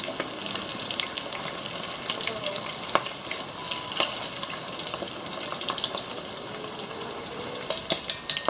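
Filipino spring rolls fry in hot oil, a close, steady crackling sizzle dotted with sharper pops and occasional light utensil clicks, no voices.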